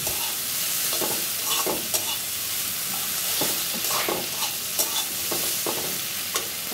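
Potatoes and pointed gourd sizzling in a pan while being stirred, a constant frying hiss broken by repeated scraping clinks of the spatula against the pan.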